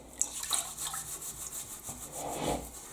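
An OXO toilet brush scrubbing moldy grime from a toilet bowl rim, with close, rhythmic rasping strokes of stiff bristles, steady and fairly quiet, with no talking.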